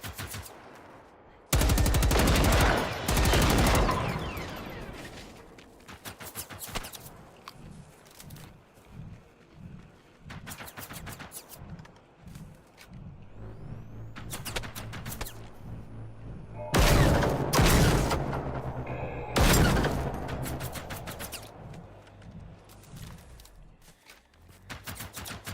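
Rapid bursts of automatic gunfire from the video game Generation Zero, with several loud sustained volleys separated by quieter stretches of footsteps and background game sound.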